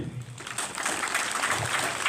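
Audience clapping hands at a school felicitation event, a dense steady patter of many hands, moderately loud and sustained for about two seconds.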